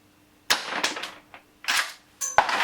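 An airsoft PPS shell-ejecting shotgun powered by green gas fires three sharp, loud pops in quick succession, each with a brief trailing hiss of gas.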